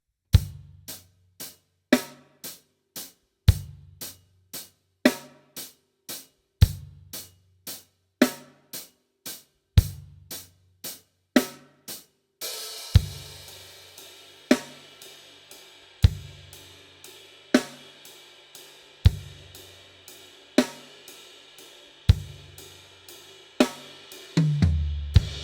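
A drum kit plays a steady 6/8 groove, with eighth notes on the hi-hat, a kick on the first beat and a snare on the fourth, repeating evenly and alone at moderate volume, the cymbal wash growing brighter midway.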